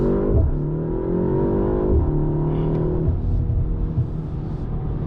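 A 2025 BMW M235 Gran Coupe launches hard under launch control, engine climbing in revs with quick gear changes breaking the rising tone, steady and fairly close throughout.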